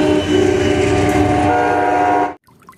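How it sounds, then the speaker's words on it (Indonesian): A loud train roars past up close, a dense steady rumble with tonal whine, then cuts off abruptly into near silence. "kereta api"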